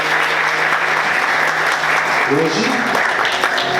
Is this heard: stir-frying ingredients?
no